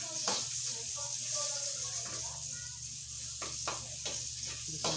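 Onions sautéing in oil in a pan while cooking pinakbet; a steady close sizzle with occasional stirring scrapes, and a person talking over it.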